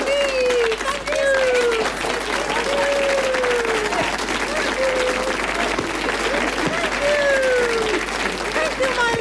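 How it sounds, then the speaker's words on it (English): Sustained audience applause and crowd noise at an Australian television entertainment show, loud and continuous, with a voice speaking over it in sliding, sing-song tones. "Big round of applause for me."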